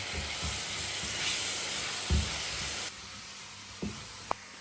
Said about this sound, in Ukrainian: І залишаю, нехай груша собі карамелізується буквально ще хвилинку-півтори.